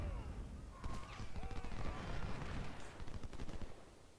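Cannon fire from an artillery battery in a Civil War strategy video game set at Corinth, a rapid run of overlapping booms and cracks over a steady rumble of battle, moderately loud and continuous with no talk.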